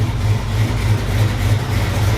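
An engine with only an intake cam and long-tube headers roars steadily under load during a dyno pull, a loud, close, continuous low rumble with slight pulsing and no pauses.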